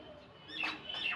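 A flock of common mynah birds feeding together gives a couple of sharp, squawking calls that rise over faint background hiss at moderate distance.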